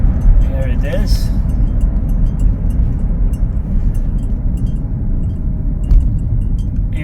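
BMW electric conversion car driving at steady volume and automatically shifting down into low gear, a continuous low drivetrain rumble with brief higher whines near the start, talk running over it.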